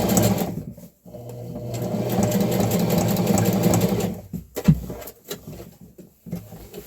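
A sewing machine runs a long continuous stitching burst along a seam in thrifted bedsheet fabric for a peasant blouse, then stops and gives a few short stuttering runs, close and loud.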